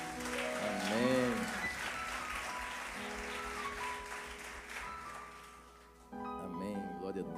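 A church congregation applauds for Jesus during a service, a soft, continuous clapping wash beneath a voice. It fades and stops for a moment before the voice returns alone.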